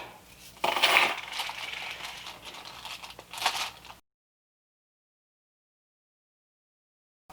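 Loose metal nuts and bolts clatter onto a surface in a short jangling tumble, a second smaller rattle following before the sound cuts to silence.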